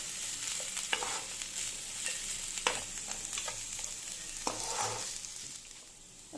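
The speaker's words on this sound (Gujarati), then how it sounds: "હવે એમાં કેપ્સિકમ એડ કરીશું। હવે આને પણ થોડી વાર આપણે શેકાવા દઈશું।" Chopped onion and capsicum sautéing in a pan for masala oats, with continuous sizzling under repeated sharp scrapes and stirs of a spoon against the pan, close and alone.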